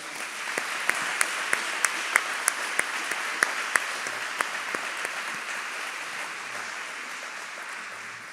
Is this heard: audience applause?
yes